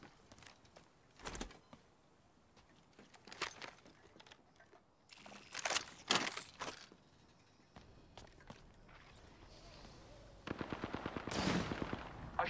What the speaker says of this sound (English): I shot the cargo bot.